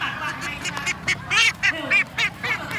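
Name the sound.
ducks quacking during a duck-catching game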